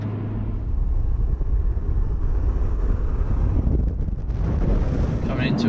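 A BMW M140i engine drones steadily while driving, with a low rumble under heavy wind and road noise and someone talking over it.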